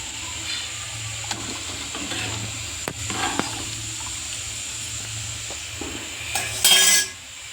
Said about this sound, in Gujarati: ધીમા ગેસ ઉપર ઉકળવા દઈએ